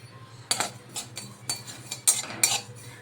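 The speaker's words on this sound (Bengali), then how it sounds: "এখন আমি পুস্তটা আর তিলটা দিয়ে দিলাম এখন এটা আমি একটু একটু হালকা করে একটু ভেজে নেব" Poppy seeds and sesame being dry-roasted in a hot wok for a village-style bottle gourd greens recipe, with a utensil scraping and clinking against the pan in short repeated strokes about every half second over a low steady hum.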